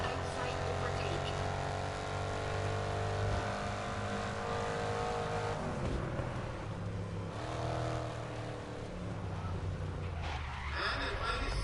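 Race cars in Grid Legends roar along side by side, engines droning with shifting revs as one overtakes on the outside, a constant loud whine under a faint voice.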